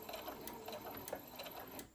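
A sewing machine back-stitches a fabric crayon roll, running in a steady close mechanical whir with rhythmic needle clatter for about two seconds, alone and without talk.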